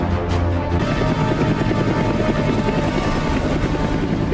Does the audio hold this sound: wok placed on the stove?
no